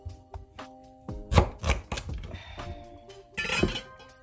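A knife chops through a hard vegetable for a veggie soup on a cutting board, giving a run of sharp, close cracks and clinks, several quick strikes, a pause, then a final loud cut.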